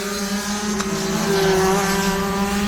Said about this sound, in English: there were some cars driving by